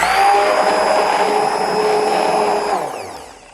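An immersion emulsion blender whirring through soap-making oils, a loud steady motor whine that holds for nearly three seconds, then spins down as it is switched off.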